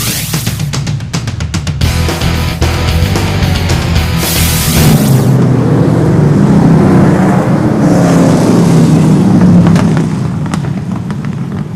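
Hobby stock race cars roar around a short track, loud and close, their engines swelling into a continuous thundering drone as the pack gets under way.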